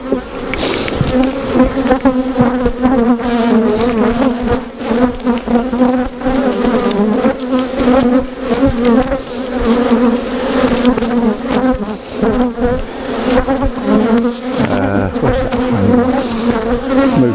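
A honeybee colony buzzes loudly and continuously up close while the hive is opened and split, a dense, steady hum with no speech.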